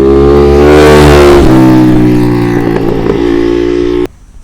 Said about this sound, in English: The exhaust is aftermarket, and I tell you, what a sound. I'll have to put a sound clip in here so you guys can enjoy it